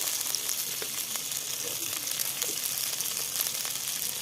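Potato, broad beans and yardlong beans frying in a pan in a village kitchen: a steady, bright sizzle with faint crackles, close and continuous; no one speaks.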